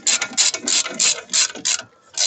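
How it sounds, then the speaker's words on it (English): Ratchet wrench tightening brake disc bolts on a car, a run of quick clicking bursts of repeated pawl ticks with short pauses between strokes, close and alone. "You can do this with a ratchet, you don't need anything more."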